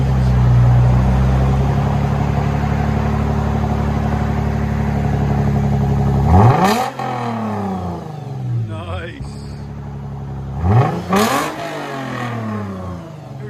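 A 2013 Lexus GS350 with a 3.5L V6 and LCGP resonators idles loudly, then revs sharply twice, each rev climbing and falling back. A person briefly speaks.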